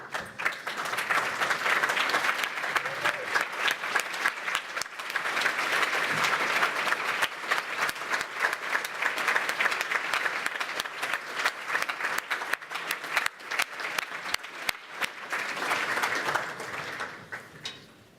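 Sustained applause from a large audience at a cultural diversity awards ceremony, dense and steady for the full length with a brief dip partway through, clapping alone with no talk over it.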